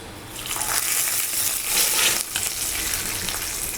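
Tempering spices crackle and sizzle loudly in hot oil for tamarind rasam, a dense, steady hiss that swells near the middle and stays close throughout, with no voices.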